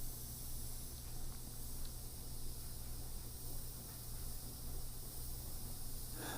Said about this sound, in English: The opaque white and opaque black really spray really well out of the, with just reduction.